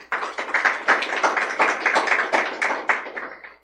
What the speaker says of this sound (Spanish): Por eso yo le daría un aplauso al Señor.